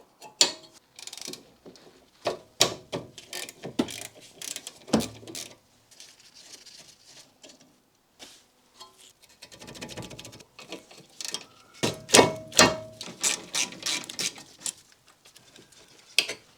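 A 14mm socket ratchet loosening a brake caliper slider bolt on an NC MX5 Miata during a front disc and pad change, giving close, irregular clusters of rapid clicking and metallic tapping with short pauses between bursts.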